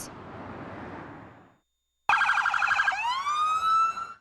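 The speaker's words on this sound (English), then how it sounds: "Lights and sirens filled the street in Holiday" A loud, rising police siren wail sounds close by during a fallen officer's funeral procession, after a brief silence, its tone sweeping upward and holding, with rumbling noise underneath.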